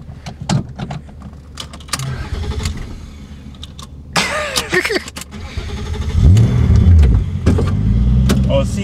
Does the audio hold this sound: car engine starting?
yes